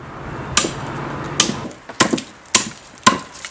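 An adze chops into wood while a wooden bowl is hollowed out, giving five sharp, close thwacks spaced roughly half a second to a second apart over a light background hiss.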